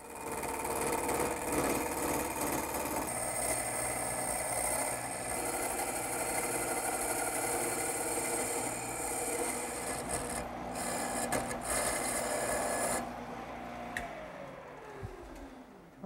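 A wood lathe turns table-leg stock while a cutter follows a masonite template, giving a steady, continuous rasping scrape over the motor's hum, close and fairly loud, winding down near the end.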